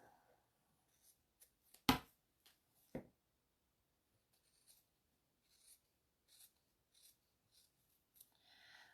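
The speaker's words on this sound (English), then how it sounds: "the best way I find is to run your scissors, slowly close them and turn your fabric at the same time" Scissors snip a few times, with two sharp louder cuts early on, then softer, sparse snips and rustling of fabric, close up and without talk.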